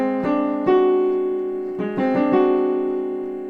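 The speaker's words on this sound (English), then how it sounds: "the next one is called the French augmented 6th." A French augmented sixth chord sounds on a sustained, organ-like keyboard timbre, struck a few times, then moves through a brief change and resolves, each attack clear and ringing with no voices.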